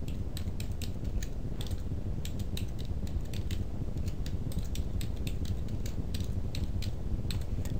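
Typing on a computer keyboard, a steady run of light, close clicking keystrokes over low background noise, with no voices.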